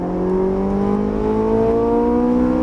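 A Ferrari 458 Italia V8 revs steadily upward under acceleration on a racetrack, a loud, continuous, rising engine tone heard close from inside the car.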